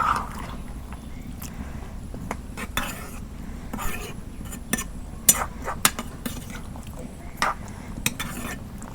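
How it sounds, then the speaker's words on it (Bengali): Chicken and bottle gourd being stirred in a pot on a village-style stove: repeated scraping and metal clinks of a spoon against the pot in irregular bursts, close by, over a low rumbling background. "নাড়াচাড়া করে দেই"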